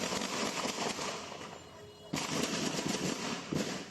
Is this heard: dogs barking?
no